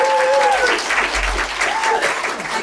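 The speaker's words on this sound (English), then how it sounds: "So guys, round of applause," A conference audience claps for a speaker, brisk dense applause heard close and loud across the short stretch, with a few whistling or ringing tones over it.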